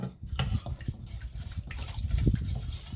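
Yellow oil-based color being stirred into a soap mixture for bathing soap, with irregular scraping and clinking strokes against the container, close and fairly quiet.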